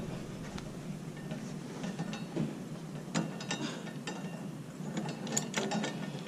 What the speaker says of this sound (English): When you pick it up, you kind of squeeze that spring together. And we're going to come around and we're going to insert it into the wheel assembly.